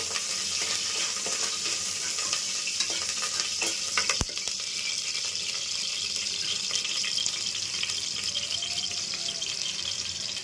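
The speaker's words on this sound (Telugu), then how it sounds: "కరివేపాకు, పచ్చిమిరపకాయలు వేసుకొని ఒక 2 నిమిషాలు ఫ్రై చేసుకుందాం." Curry leaves and green chillies frying in a pan give a steady, close broadband sizzle throughout, with one sharp clack partway through and light stirring scrapes; no one speaks.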